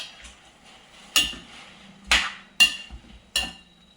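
A spoon knocks and scrapes in a metal pot while frozen jackfruit erissery is stirred, giving four sharp clanks spaced about a second apart over quiet kitchen background.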